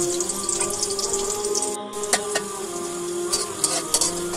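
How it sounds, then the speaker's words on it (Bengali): Two onions fry on a stovetop over high heat, browning for a potato and mutton curry, with a steady sizzle, occasional stirring clatter and a faint water-like hiss against a tonal background hum. "চুলা অন করে 2টি পেঁয়াজ ব্রেস্তা করে নিলাম।"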